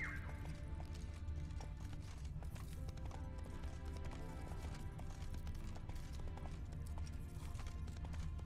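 Quiet rhythmic clip-clop of horse hooves in the video game The Witcher 3: Wild Hunt runs steadily beneath a faint, busy background.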